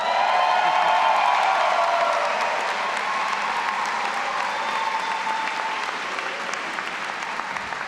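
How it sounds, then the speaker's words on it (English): A graduation audience at an executive MBA ceremony gives a dense, sustained round of applause with faint cheers, loud at first and easing slightly toward the end, with no speech over it. "Ashish gets double the applause today."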